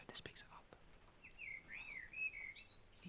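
A blackbird sings just outside a shed on a rainy day, a clear warbling phrase after a few soft knocks and movements nearby, heard fairly close over a quiet background.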